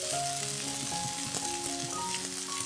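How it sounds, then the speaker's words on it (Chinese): Vegetarian mince stir-fried with tomato ketchup in a pan gives a steady close sizzle, with faint stirring scrapes and a background tone throughout and no talking. "加入番茄酱炒均匀"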